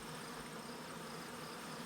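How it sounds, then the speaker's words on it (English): Honey bees buzzing at the entrance of a first-year beehive, a continuous, even drone of many insects, fairly quiet and with no talking. "tons of bees going in there"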